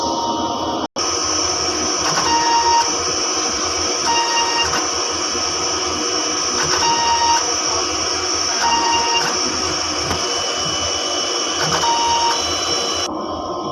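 A DTF printer runs a head clean cycle after six days of use, giving a steady, loud mechanical whir and hum with faint regular ticks, briefly cut by one sharp click near the start.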